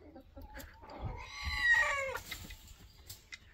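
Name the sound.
rooster crowing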